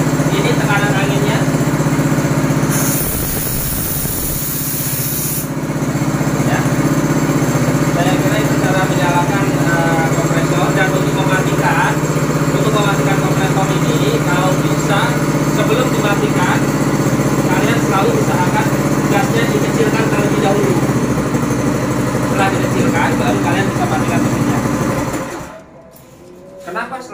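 A Swan engine-driven air compressor in a fully equipped workshop runs with its throttle raised, a steady loud mechanical drone holding for about 25 seconds before cutting down near the end.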